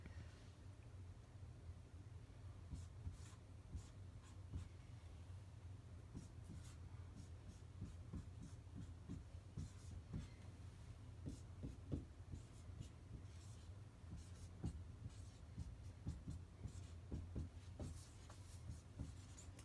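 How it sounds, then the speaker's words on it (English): Music chords are written out by hand, with a pen or pencil scratching and tapping softly on paper in quick irregular strokes. The sound is faint and close. "And then what I do is I write out the chords."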